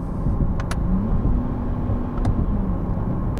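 A 2020 Chevrolet Corvette Convertible cruises along at steady speed, its engine and road noise forming a continuous low drone with a faint rising tone, heard up close from inside the cabin with no talking.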